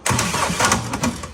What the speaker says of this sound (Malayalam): എഞ്ചിൻ പോയി എന്നാണല്ലോ പറഞ്ഞത്. എന്തായാലും പോയി. എന്നൊന്ന് സ്റ്റാർട്ട് ചെയ്ത് നോക്കാം ഒന്നുകൂടി.